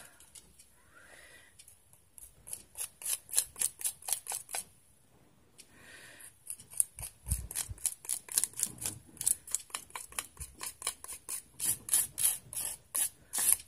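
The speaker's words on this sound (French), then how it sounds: "j'ai pris mon couteau de peinture" Palette knife scraping across paper while scrapbooking an altered book, a run of quick, close, rhythmic rasping strokes with a short pause partway through.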